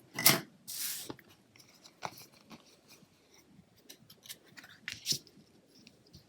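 Scissors snip through silver metallic edged ribbon in a couple of sharp close cuts, followed by small rustles and clicks of handling the ribbon on a craft table.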